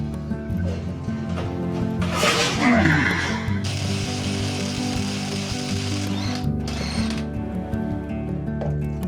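A ratchet loosens a rusted keel bolt on a Beneteau 235 sailboat with rapid metallic clicking, ending in a sharp crack as the bolt breaks free and then a steady whirring; close, over a low background hum.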